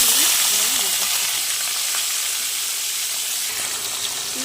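Chopped carrots frying in a pan with bay leaf, cumin, garam masala and dried chilli, giving a steady, close, hissing sizzle that fades slightly over a few seconds.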